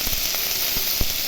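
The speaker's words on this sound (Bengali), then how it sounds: "পেঁয়াজগুলো একটু ভাজা হয়ে গেলে তারপরে এই যে সবজিগুলো দিয়ে দিচ্ছি" Onions, then vegetables, frying in a pan while preparing Bengali fish curry, giving a steady close sizzle and hiss throughout with a few soft clicks of stirring, no talk.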